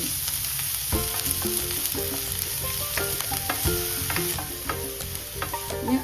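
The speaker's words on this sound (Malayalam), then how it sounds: "വെളിച്ചെണ്ണ ചെറുതായിട്ട് ചൂടായിട്ടുണ്ട് അതിലേക്ക് ചെറിയൊരു സബോള അരിഞ്ഞതാണ്" Finely chopped onion frying in hot coconut oil for a Kerala-style beetroot thoran, a constant close sizzle with rhythmic scraping strokes of a spoon stirring the pan, and no talking.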